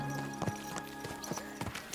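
Horse hooves clip-clopping in the video game Kingdom Come: Deliverance 2, a steady rhythmic trot of repeated hoof strikes, moderately close, with a soft ambient bed beneath and no talking.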